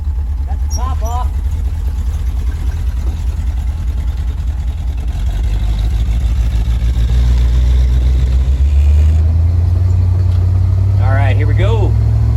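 A 1974 Ford Bronco under restoration, top off, on its first test drive, its engine rumbling steadily and building in the final seconds, with a person speaking briefly near the start and again near the end.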